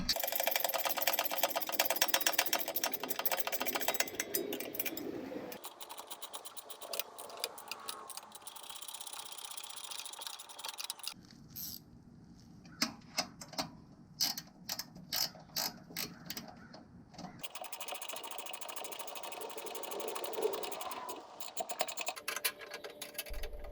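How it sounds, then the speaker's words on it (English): A 13mm Gearwrench ratcheting wrench clicks rapidly while turning nuts during assembly of a Tazz K33 chipper shredder, with bursts of fast ratcheting broken by short pauses and quieter handling noises. "There's not a lot of room to access these nuts with a socket, so I'm using a 13mm Gearwrench"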